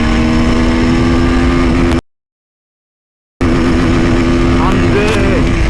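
A CF Moto 300 SR motorcycle engine droning loudly and steadily up close, with a sharp cut to silence partway through before the engine note resumes and rises as it revs.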